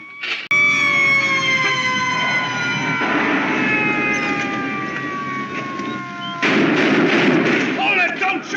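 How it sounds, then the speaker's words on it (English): Gunfire in a 1954 thriller film, with loud, sustained sharp reports and booms mixed over a wailing, gliding siren-like tone and dense background noise, continuing steadily and intensifying near the end. "Gunfire."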